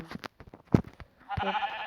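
A single short sheep bleat from Minecraft Pocket Edition rings out amid clicks and light tapping, followed by a buzzy electronic tone; no talking.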